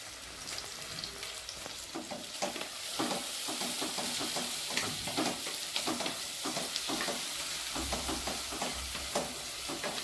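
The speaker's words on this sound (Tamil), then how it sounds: "வெங்காயம் வதங்கிறதுக்கு நம்ம கல் உப்பு கொஞ்சம் போட்டுக்கலாம்" Onions sautéing with rock salt in a pan on low heat for bread vegetable biryani, a steady crackling sizzle with frequent scraping stirs, close and alone.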